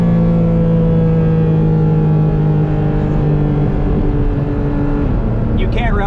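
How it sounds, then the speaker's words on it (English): A Porsche GT4 RS engine drones and booms from behind the cabin while driving, its induction note loud and steady inside the car and shifting pitch near the end. "that air induction noise behind our head"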